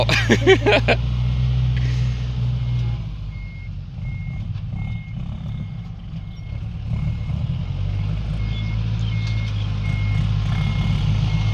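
A truck reverses on a worksite to dump its load, its reversing alarm beeping steadily over a loud low engine rumble, close, with voices briefly audible near the start.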